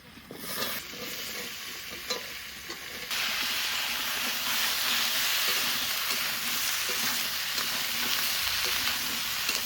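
Potatoes and taro stems frying in a pan, a dense close sizzle that surges louder and hisses steadily after a few seconds, with faint stirring knocks.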